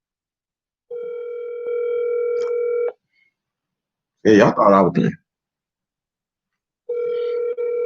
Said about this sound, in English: See, he ain't answering the phone.